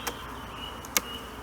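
Honeybees at an opened hive with a queen excluder in place, a faint, steady insect buzz heard up close with a couple of brief louder bursts.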